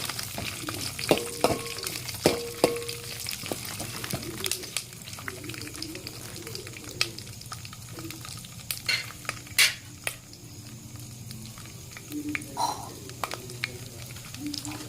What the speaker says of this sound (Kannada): ನೋಡಿ, ಶೇಂಗಾ ಬೀಜ ಕೆಂಪಾಗುತ್ತನ್ನು ಹುರಿಬೇಕು.